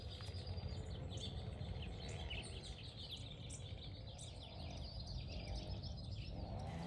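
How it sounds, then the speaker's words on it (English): Birds chirp around a residential neighborhood yard, with many high tweets and calls overlapping continuously against a steady outdoor background hiss. "All the birds in my neighborhood have figured out that it's safe to come here."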